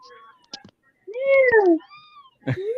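A small black cat meows close by in a few distinct calls, one long and drawn-out, with quiet gaps between them.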